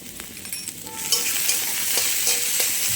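Mashed boiled soybeans with a little salt fry in a pan, giving a rising, steady sizzle close by with several scraping stirs of a spatula.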